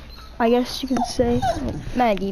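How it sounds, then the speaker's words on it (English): Pet dog barking and yipping indoors, several sharp close barks and whiny yelps in quick succession, heard alongside a person talking. "She's barking in the background"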